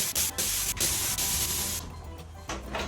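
Bursts of forceful hissing from a SATA HVLP paint spray gun at about 40 psi, close and loud, cutting off briefly a few times before resuming more softly.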